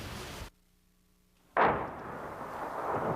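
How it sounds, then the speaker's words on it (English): An artillery shell bursts during the bombardment of Kabul, a loud, sharp boom following a sudden silence and trailing off into a long rolling rumble. "Today, Hekmatyar continues to shell his capital with stockpiled weapons given him by the CIA"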